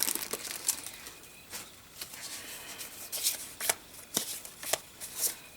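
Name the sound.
shuffling through a stack of die cards and journal cards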